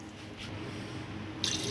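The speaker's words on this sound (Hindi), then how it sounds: "अब पानी डाल रही हूँ इसमें," Water pours steadily into a pressure cooker holding ker sangri, a soft continuous splashing and trickle heard close up without any voices.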